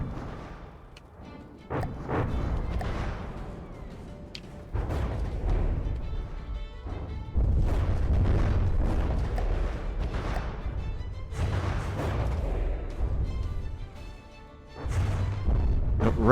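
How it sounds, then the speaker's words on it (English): Anti-aircraft guns firing and explosions in the naval combat game From the Depths, irregular dull booms and thuds at moderate distance, several spaced heavy impacts. "The anti-aircraft guns are hitting it fairly good."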